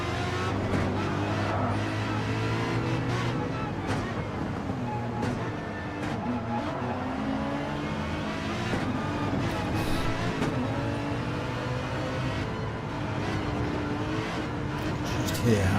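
Race cars in a 3-lap club race on a wet Nurburgring Nordschleife, engines revving and lifting as drivers work throttle and brakes, a continuous loud roar with passing and accelerating cars, heard under a commentator's talk.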